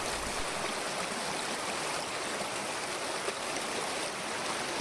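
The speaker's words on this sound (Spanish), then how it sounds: "El recorrido que hacen estas aguas hasta llegar al río Saja es rápido y corto" A mountain stream fed by snowmelt in Cantabria rushes toward the Saja river, a continuous, even broadband water hiss with no other sounds.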